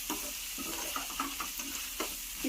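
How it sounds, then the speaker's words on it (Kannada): Egg fried rice stir-fried in a hot pan, a steady sizzle broken by repeated scraping stirs at an uneven rhythm, close and fairly loud with no voices. "ಈ ಥರ ಫ್ರೈ ಮಾಡಿ."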